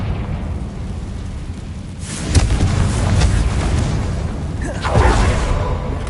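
Confringo spell explosions in Hogwarts Legacy, with two distinct booming bursts a few seconds apart over a constant rumbling background, loud and close.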